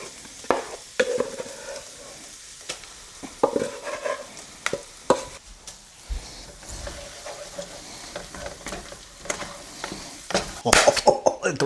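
Beans stirred into frying vegetables in a pan: scraping utensil strokes and clinks over a steady sizzle, close and moderately loud, with brief talk mixed in.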